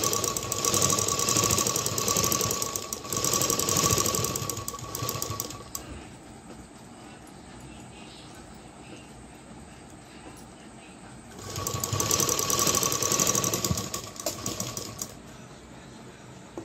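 A sewing machine runs a double line of stitching on a blouse in two bursts of rapid rhythmic clatter, separated by a quieter pause of faint background noise.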